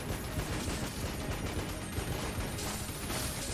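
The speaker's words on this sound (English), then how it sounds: "Where are all these explosions coming from?" Constant explosions and rapid gunfire crackle from the modded twin-stick shooter Enter the Gungeon, a dense, unbroken barrage of bursts and pops that stays loud throughout with no pause.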